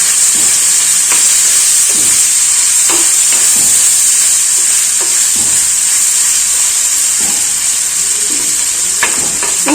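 Ginger and green chillies fry in a pan for a raw mango thoran, a loud, constant sizzling hiss with soft scraping strokes of a spatula scattered throughout, close up.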